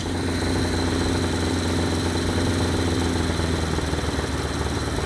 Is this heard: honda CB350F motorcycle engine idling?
yes